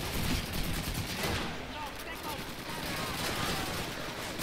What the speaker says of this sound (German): Bam, Turmtypen schießen